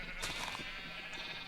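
A sheep in the Minecraft video game bleats in a short, faint, nasal call with a second softer bleat following, alone without talk.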